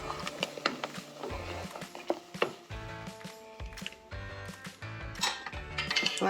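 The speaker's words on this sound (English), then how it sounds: "I'm gonna go ahead and give that a good stir." A spoon stirs an oatmeal mix of chia seeds and ground flaxseed in a bowl, giving a busy run of scraping, clicking and clinking at close range, steady and moderately loud, with no voices.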